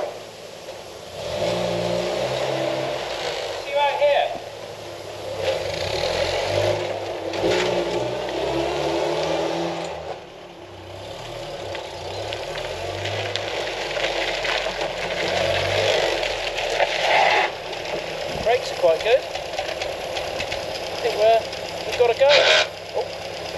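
A Series 1 Land Rover engine, first started in over 20 years after new fuel lines were fitted, cranks and catches, then runs roughly with uneven revving and knocking, loud and close.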